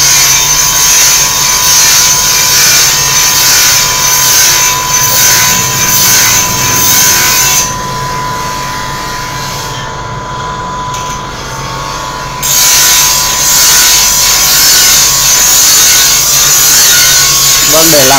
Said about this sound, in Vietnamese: Ví dụ như đây là chiếc máy khoan, máy mài.